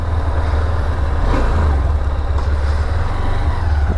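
A Honda CB200X motorcycle is being ridden, its engine a steady low rumble with constant loud wind and road noise and no speech.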